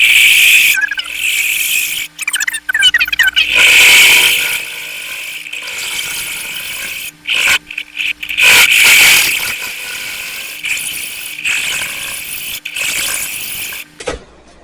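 A wood lathe turning segmented wood runs with a steady low hum while a tool bites in, giving intermittent bursts of harsh scraping and whining, stopping and starting repeatedly.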